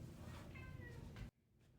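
A house cat gives a short meow, close and fairly quiet, lasting about a second before cutting off into near silence.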